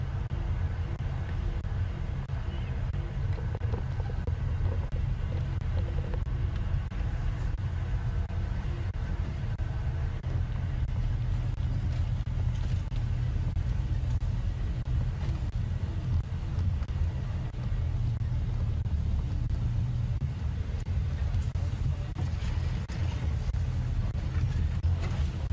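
A safari vehicle on an evening game drive rolls into position, producing a low, steady engine rumble with wind buffeting throughout and no clear breaks.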